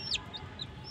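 Young chickens, hens and roosters give a quick, faint cluck and a few high peeps close by in a brief moment.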